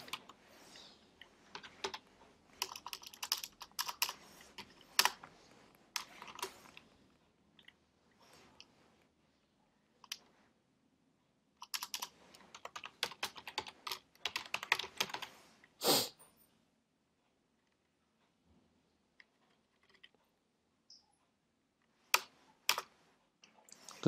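Code is typed into Xcode on a computer keyboard in quiet, close bursts of rapid key clicks, broken by short pauses and a few isolated taps.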